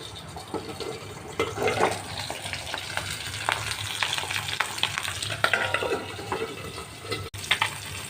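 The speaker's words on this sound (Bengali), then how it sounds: "ভাজা ভাজা হয়ে এসছে, ফ্রাইড রোস্টেড হয়ে এসছে" Pabda fish frying golden in a pan, a close, busy sizzle with crackles and spits, broken by stirring and scraping noises, no voices.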